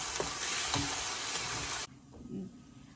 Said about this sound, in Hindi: भूनेंगे अच्छी तरह तो फिर ये रेडी हो जाएगी कढ़ाई।